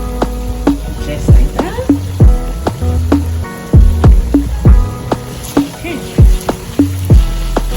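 Tomato paste frying in a pan of gravy for tilapia, shrimp and squid, with a loud, close sizzle broken by repeated sharp clanks and scrapes of a utensil, and a brief spoken remark.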